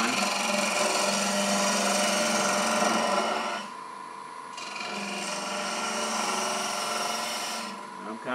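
Wood lathe spinning while a gouge cuts a small turned wooden flower, a continuous close whirring hum with scraping cutting noise that eases off briefly and returns, with someone talking over it.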